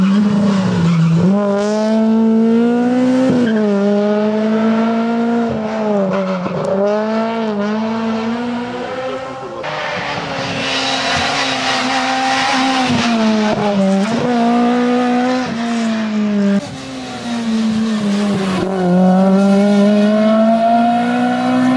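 Ford Fiesta R2 rally car at a rally stage, its engine revving hard through repeated gear changes with rising and falling pitch as it approaches and passes, loud and close.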